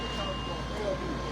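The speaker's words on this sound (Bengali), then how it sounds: "এখন তো ফায়ার ইঞ্জিন আইসে" Fire engine arriving at a house fire in West London, its reversing beeps ringing steadily through a noisy street scene with a low engine rumble and voices in the background.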